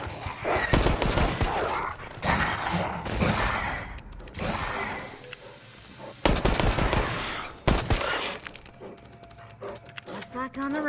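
Gunfire in Resident Evil Resistance, repeated bursts of rapid shots and heavy single blasts spread across ten seconds, loud and close, mixed with in-game voices and other action noise.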